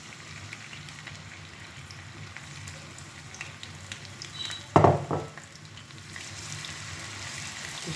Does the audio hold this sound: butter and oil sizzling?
yes